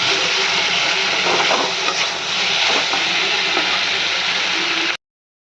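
Vegetarian vegetable chorchori with chopped coriander is stirred in a hot pan, giving a close, continuous sizzling hiss that stops abruptly at the end.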